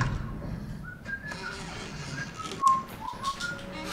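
Whistling in the horror game Resident Evil 7, a few short, faint whistled notes over a low ambient backdrop, with scattered thuds.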